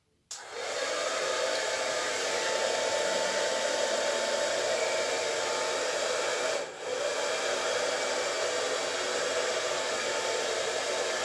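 An air blower pushes acrylic paint across a small canvas for a Dutch pour, switching on sharply and then roaring steadily and loudly close by, with one brief dip partway through.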